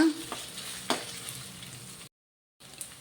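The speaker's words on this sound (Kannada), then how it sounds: "ಇದನ್ನೆಲ್ಲ ಫ್ರೈ ಮಾಡಬೇಕು ಒಂದೆರಡು ಮೂರು ನಿಮಿಷ" Vegetables and cumin seeds frying in a pan for veg fried rice, a steady close sizzle with a few stirring scrapes, broken by a brief silent gap before the sizzling resumes.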